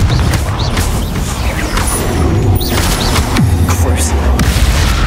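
A fiery Confringo spell explosion in Hogwarts Legacy booms amid a dense, continuous wash of loud spell-combat effects, with several heavy thuds layered over a rumbling low end throughout.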